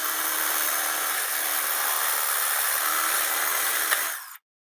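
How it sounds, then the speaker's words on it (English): A step drill whines through a hole, deburring and enlarging it on a 1991 Polaris during a solenoid replacement, a loud, steady high-pitched drone that stops abruptly near the end. "we can turn it around and use a step drill to just kind of deburr it"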